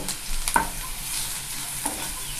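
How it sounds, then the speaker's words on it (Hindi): Pumpkin leaves and green chili fry in a pan with a steady sizzle while a utensil stirs and scrapes twice, close and moderately loud. "भून लेते हैं अच्छे से, सुनहरा होने तक भूनते हैं।"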